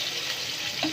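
Peeled garlic cloves fry in oil for mutton kulambu, giving a brief, steady close sizzle with a faint stirring scrape near the end.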